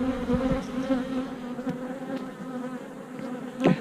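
A dense, steady drone of many bees buzzing close by in a hive, with a few louder individual buzzes passing near.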